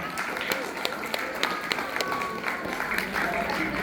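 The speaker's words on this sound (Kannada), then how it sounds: "ಎಲ್ಲರಿಂದ ಒಂದು ದೊಡ್ಡ ಚಪ್ಪಾಳೆ ಬರಲಿ" An audience claps at a speech event, steady scattered applause of moderate loudness with sharp individual claps standing out, while a voice carries on over it.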